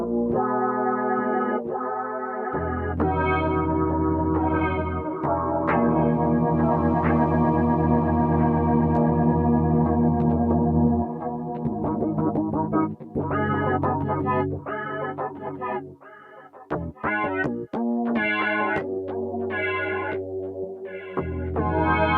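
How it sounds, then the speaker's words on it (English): Guitar tone run through a deep modulation effect with the rate sped up and depth maxed, chords and notes warbling and swirling continuously, loud and close, alone without talk. "Real deep modulation there."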